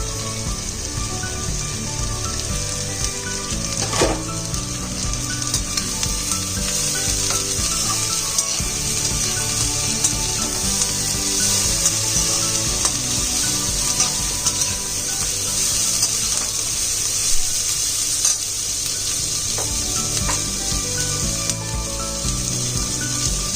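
Carrots with green, yellow and red bell peppers stir-frying in a pan: a loud, constant rain-like sizzle with faint intermittent stirring taps, close up and unbroken by any talk.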